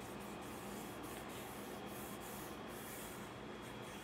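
Soft, continuous rubbing as a hand presses paper down onto marbling paint, a steady, even hiss with faint periodic strokes, close and quiet with no speech.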